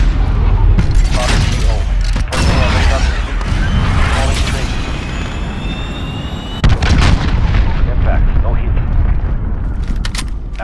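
Artillery strike in Call of Duty Modern Warfare (2019): loud, dense booming barrages and rumbling explosions crowd the whole stretch, with radio-style voices talking over the blasts.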